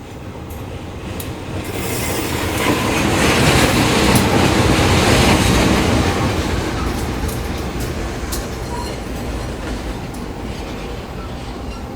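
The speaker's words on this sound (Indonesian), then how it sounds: "katanya akan bersilang dengan kereta api Kuto Jaya Selatan tambahan" An extra Kuto Jaya Selatan passenger train of economy coaches passing alongside on an Indonesian railway line, a loud sustained roar of wheels and rushing air that swells and slowly eases, with faint rhythmic clatter.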